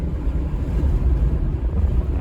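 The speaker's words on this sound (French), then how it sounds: "Le vent qui commence à arriver." Wind picking up during a supercell thunderstorm, a loud, steady, low rumbling gust buffeting the microphone outdoors with no voices.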